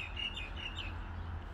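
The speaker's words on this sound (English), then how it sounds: "Hear that bird up in that tree?" A bird calls from up in a tree, giving a few faint high chirps in quick succession over a low outdoor rumble, with no talk.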